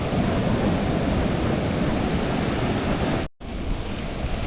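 Continuous loud roar of sea waves on a beach near Kovalam, Kanyakumari, with wind buffeting the microphone and one brief dropout near the end.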